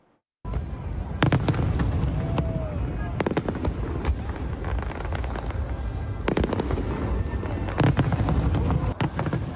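Fireworks at Singapore's National Day celebration for six decades of independence, a continuous loud barrage of booms and crackles with several sharp bursts over a crowd roar.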